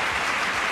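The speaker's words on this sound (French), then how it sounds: "On peut l'applaudir bien fort." Audience applause on a French radio comedy show, a brief, even burst of clapping from the studio crowd.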